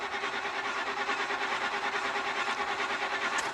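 A vehicle engine being cranked without starting, a steady rhythmic whirring chug from the starter that continues evenly for several seconds, close and loud, with no voices.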